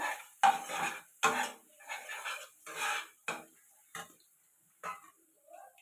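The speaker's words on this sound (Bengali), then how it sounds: "নাড়িয়ে নিয়ে আরো দুই তিন মিনিট একটু নাড়িয়ে নেবো" Mung dal with fish head being stirred in a pan: a series of scraping, clattering strokes from a spatula against metal, about eight bursts with short pauses, close and clear, no talking.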